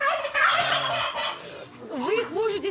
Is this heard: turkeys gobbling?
yes